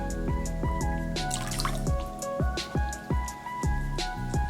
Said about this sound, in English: I am going to dip my washcloth into here and just rinse this